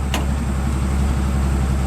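Engine of a 1980 AMC AMX Spirit running steadily at close range, a continuous low rumble with no clear rise into a rev, alone without talk.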